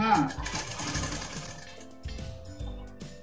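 A sewing machine stitches the lining of a blouse, a soft rhythmic mechanical whir with knocking pulses, quiet and close, while someone talks over it.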